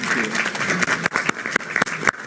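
Audience applause following a panel discussion, a steady patter of many hands clapping at moderate distance, with a few sharper individual claps standing out toward the end.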